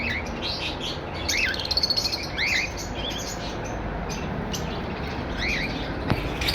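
Pet birds in a bird shop chirp and tweet in quick, high bursts throughout, several calls overlapping against a busy background hum, with no talking.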